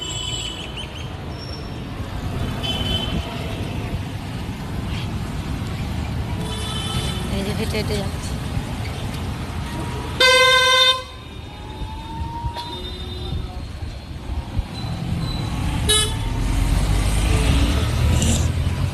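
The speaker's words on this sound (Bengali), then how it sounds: "গাড়ি ঘোড়ার জন্য রাস্তায় পার হওয়া যায় না বাবা" Busy road traffic on a town street, with a steady wash of passing vehicles and one loud, brief horn blast near the middle, heard under a person talking while walking.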